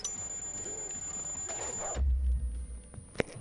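Enemy reinforcement alarm in Far Cry New Dawn: a steady high electronic tone rings through the game mix, then stops amid low rumbling and a sharp sudden impact near the end.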